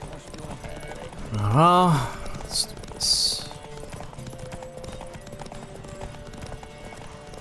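Horse hooves clip-clop at a gallop during a race in The Witcher 3, a steady rhythmic patter under the game's background music, with a rising voice cutting in briefly and a player speaking.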